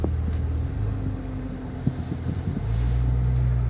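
A Maserati Ghibli S Q4 pulling away, its engine a low steady rumble with a brief bump, then rising into a stronger, smoother drone as it gains speed.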